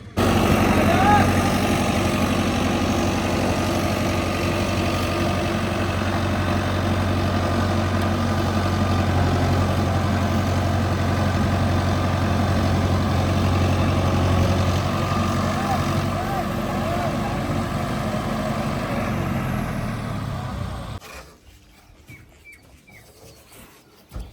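A tractor engine runs steadily nearby at a farm, a deep continuous low rumble holding even for about twenty seconds before it abruptly cuts out, leaving near quiet.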